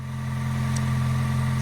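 A 2025 sixth-generation Toyota 4Runner TRD Pro idles steadily after starting, its engine a close, continuous low hum with no pauses and no voices.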